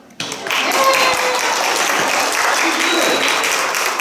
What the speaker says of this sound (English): Somebody's going to want to clap.